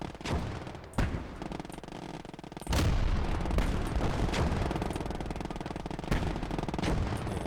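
Artillery shelling in the World War II strategy game Call to Arms: Gates of Hell, with heavy booms and sharp blasts landing at irregular intervals over a constant rumble of distant gunfire.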